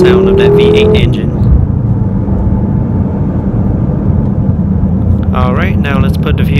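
A 2015 BMW M6 Gran Coupe with a twin-turbo V8 gives a loud, sustained engine roar that swells and falls through the whole stretch, with rising pitch sweeps near the start and again at the end.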